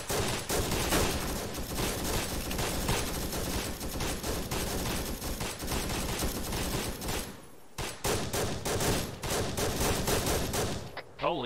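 Heavy gunfire in the Vietnam-set video game Arma 3, dense overlapping automatic bursts and rifle shots, loud and near, with a short lull before the shooting resumes.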